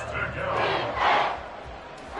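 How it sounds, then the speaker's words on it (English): Stadium crowd roaring throughout a football video game, a broad sustained cheer that swells around the middle and stays loud, with a commentator's voice talking over it. "this crowd is making an impact right now"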